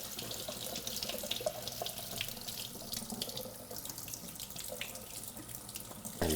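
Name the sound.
rinsing robot vacuum parts under running sink water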